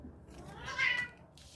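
A house cat meows once, a clear rising cry near the middle, close by and moderately loud, over a quiet indoor background.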